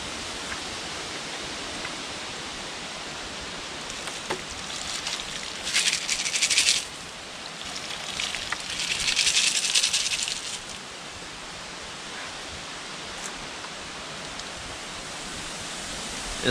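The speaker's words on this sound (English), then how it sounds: "Give them a bit of a rinse here." Running water rinses tumbled rocks in a steady soft hiss, with two louder bursts of splashing spray and a few light clicks of stones knocking together.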